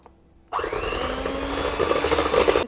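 An electric hand mixer whirs as it beats 75 grams of whipping powder with milk and fresh cream for a pudding. It starts abruptly and keeps up a loud, steady motor whine close by, with no voices.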